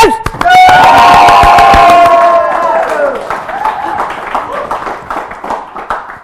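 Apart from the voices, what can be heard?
studio audience applause and cheering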